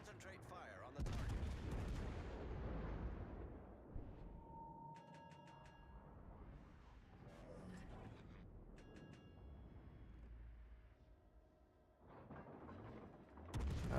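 Naval guns in a warship video game fire on a target in heavy, booming volleys, each followed by rolling rumble, with mechanical clanks and tonal game cues in the gaps and a fresh loud salvo at the end.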